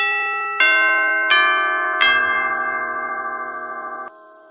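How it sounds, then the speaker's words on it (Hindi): A doorbell rings three chime tones in quick succession, each struck bright and clear and then ringing on and slowly dying away, heard close with no voices. "दरवाजे की घंटी बजती है"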